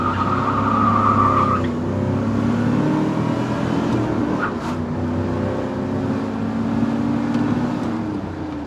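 A 1991 Chevrolet Camaro drives off and accelerates, its engine droning loud and close with rising revs and gear changes over several seconds, no talk.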